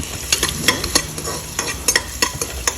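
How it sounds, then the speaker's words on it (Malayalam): Onion, cinnamon, cloves and cardamom are stir-fried in ghee inside a pressure cooker. Brisk, rhythmic scraping strokes of a spoon sound over a crackling sizzle, close and clear with no voices. "ഇനി അതിലോട്ട് കുറച്ച് ഉള്ളി, പിന്നെ ഒരു പട്ട, ചെറിയ പട്ടയാണ്, കാറാമ്പ് ഒരു 4 പീസ്, ഏലക്ക ഒരു 3 പീസ്, നന്നായി ഒന്ന് ഇളക്കി കൊടുക്കാം"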